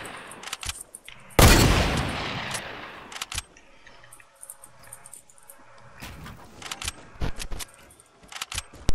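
Gunfire from an enemy squad behind, in Fortnite: one loud burst of shots, then scattered sharp cracks and clicks at varying distances, with quieter gaps between.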